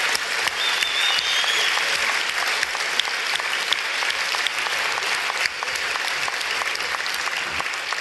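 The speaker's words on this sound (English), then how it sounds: "another round of applause for Professor Dawkins and Dr. Tyson" Dense, sustained applause from a large lecture audience, loud and even throughout with no voices standing out.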